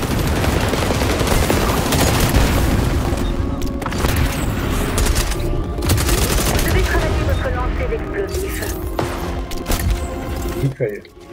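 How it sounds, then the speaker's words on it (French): Dense rapid gunfire and booming blasts from XDefiant combat, including a mine shot and exploding, loud and continuous throughout with someone talking over it. "J'ai acheté la mine, j'ai tiré dessus, j'ai explosé"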